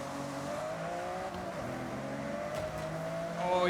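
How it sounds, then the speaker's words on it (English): Race car engines in the video game Forza Horizon 6 drone steadily at close range, one engine note rising through a gear near the end over a continuous bed of racing noise. "we're doing some real Forza racing here"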